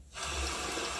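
Tap water runs steadily into a sink to wet a cotton swab, a close, continuous rushing splash that starts abruptly and holds even to the end.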